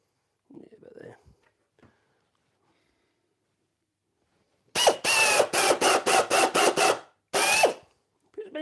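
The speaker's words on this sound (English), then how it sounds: "Put as many screws in as you like. I'm just putting 3 in." Power driver sinking screws into a hanging cabinet door in a woodworking shop: a loud run of rapid bursts, several short pulses back to back and then one more, with brief quiet talk before.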